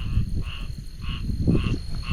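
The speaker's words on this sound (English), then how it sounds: "Frogs making too much noise." Frogs croak in a dense, overlapping chorus after rain, with rhythmic pulsing calls repeating over a low background din.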